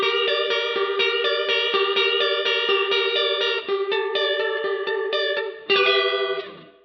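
An electric guitar runs through a Harley Benton DNAfx GiT Pro with its chorus effect cranked fully, producing a rapid repeated riff with a warbling, dissonant shimmer, then a final ringing chord that decays, heard alone and close.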